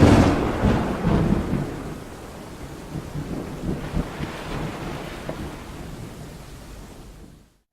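Thunder during a night storm on the Jersey bayshore: a loud rumble at the start that rolls and fades over several seconds, with rain and wind noise underneath, then cuts out.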